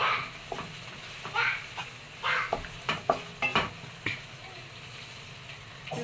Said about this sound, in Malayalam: കുറച്ച് പച്ചമുളക് ഇട്ട് കൊടുക്കുന്നുണ്ട്.